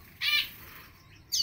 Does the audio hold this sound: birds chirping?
yes